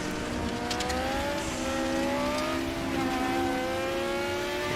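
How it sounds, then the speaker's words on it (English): Group A touring car engine in the RaceRoom racing game at TT Circuit Assen, revving steadily with shifting pitch through gears, loud and continuous with faint tire noise, no talk. "Now we're back with the Group A touring cars"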